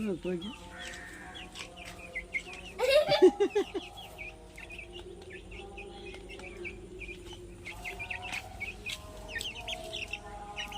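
Hens cluck and squawk nearby, with a sharper burst of calls partway through, over a background of chirping insects and occasional voices.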